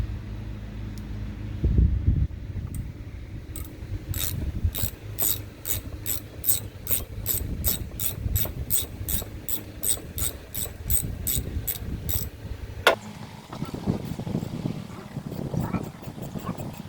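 A hand ratchet loosens bolts in the engine bay of a 2001 Chevrolet Astro, clicking in a steady run of close, crisp strokes, with some faint clatter near the end.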